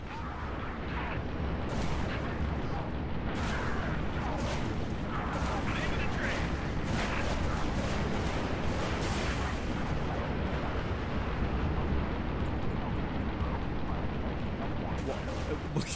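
A big ship fires its guns in the video game Halo Reach, a steady heavy rumble of distant blasts and bursts that carries on without a break, with someone talking over it.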